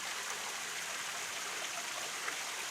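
Steady roar of Horseshoe Falls in Waynesville, Ohio, a continuous even rush of falling water heard at moderate distance, soft and unbroken with no voices.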